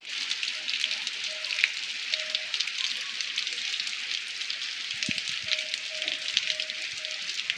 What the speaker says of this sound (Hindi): तो आप देख ही सकते हैं अब बारिश कितनी तेज हो चुकी है।